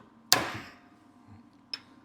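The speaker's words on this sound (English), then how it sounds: "I'm just going really into that little groove in there, hammering it apart." A hammer strikes an old brake bearing during a classic car disc brake conversion. One loud, close metallic blow rings out and decays slowly, then a second, fainter and shorter hit follows.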